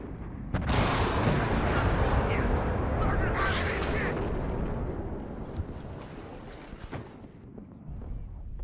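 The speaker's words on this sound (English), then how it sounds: "That artillery we can potentially counter-battery." Distant artillery fire in the WARNO real-time strategy game rumbles as a broad, sustained roar with a few scattered sharp booms, fading gradually to a lower background wash.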